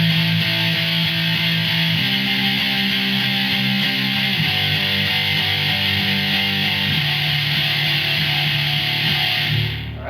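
Heavily distorted electric guitar playing the riff from a song, a thick saturated tone with shifting low notes and steady fuzz, loud and close without other instruments.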